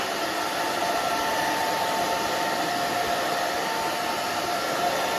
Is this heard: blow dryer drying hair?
yes